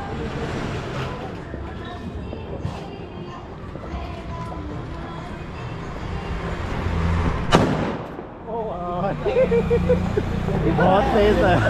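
Diwali firecrackers burst at a café celebration in Haldwani. A sharp loud crack stands out among rumbling bangs, crowd chatter and nearby talking.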